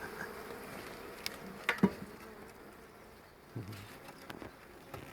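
Honeybees in a newly arrived hive give a faint, soft buzzing, with a few brief knocks and taps standing out against the quiet.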